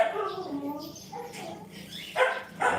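A dog barks and yips in short bursts at moderate distance, mixed with a background voice, in what sounds like an outdoor Filipino home setting.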